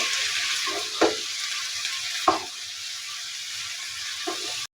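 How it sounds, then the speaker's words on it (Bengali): Spiced cauliflower fry with salt and chili sizzles in a pan while being mixed, a constant frying hiss broken by a few sharp scraping knocks of the spoon. "সব কিছু দিয়ে এখন আমি ভালোভাবে মিশিয়ে নেবো"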